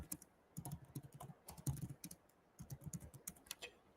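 Fingers type on a computer keyboard, a quiet close run of rapid uneven clicks in short bursts with brief pauses between them.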